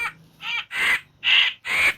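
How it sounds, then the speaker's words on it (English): A hooded crow gives four harsh, raspy caws in a steady sequence, each loud and close, separated by brief pauses, with no other sounds. "Hooded crow. Crow."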